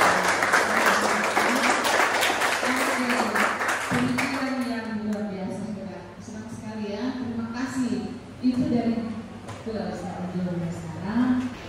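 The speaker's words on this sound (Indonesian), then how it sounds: "Tepuk tangan buat Gloria." A classroom audience claps for Gloria, a dense burst of applause for the first four seconds, then thinning as a teacher starts speaking over the last scattered claps.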